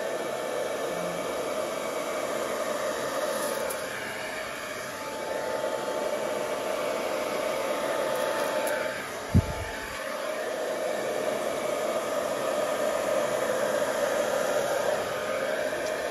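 Air blown across an acrylic fluid-art paint pour gives a steady, close, breathy rush with no talk.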